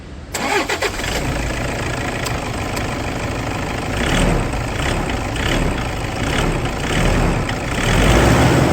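An older Toyota Innova G variant with a 2.5-litre diesel engine starts and then settles into a steady, rumbling idle, close up and loud, with no talking over it.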